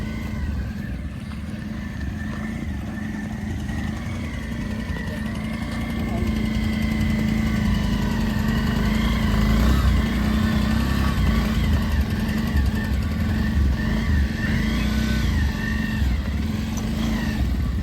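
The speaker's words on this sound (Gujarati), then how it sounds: "આ બાઇક ચાલુ કર્યો" A motorcycle engine idles nearby with a steady low putter during a slow bike challenge, revving slightly higher partway through; faint voices are audible underneath.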